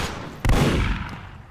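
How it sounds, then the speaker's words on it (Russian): Gunfire in the Roblox airship battle game Zeppelin Wars: a sudden loud burst of shots that rings out and slowly fades, with no talk over it. "Они по нам стреляют, пацаны, за пушки."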